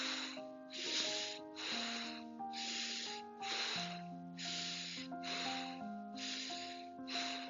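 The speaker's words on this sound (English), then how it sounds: "we'll do our final round of bellows breath" Rhythmic bellows breath during a yoga session, with forceful nasal inhales and exhales in an even pulse of about nine breaths, fairly faint and heard over sustained background music.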